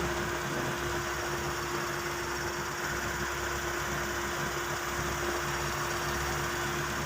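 1995 Mitsubishi Lancer engine running after a fuel pump replacement, a steady, even idle hum with faint vibration, continuous and moderately quiet, no speech.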